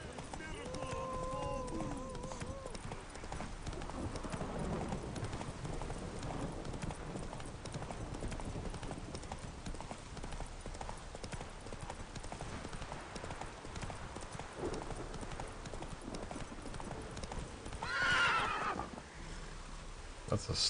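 A horse in a video game gallops with steady clip-clop hoofbeats and gives a neigh near the end, mostly under continuous game sounds and someone talking.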